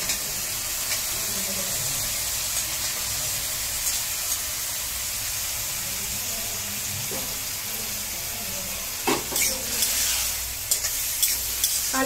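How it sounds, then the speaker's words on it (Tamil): Cauliflower is sautéed with prawn masala in a pan, a continuous close sizzle and hiss, with scraping stirs and spatula knocks becoming more frequent toward the end. "காலிஃப்ளவரையும் நல்லா சேர்த்து எல்லாத்தோட சேர்த்து நல்லா வதக்கலாம்"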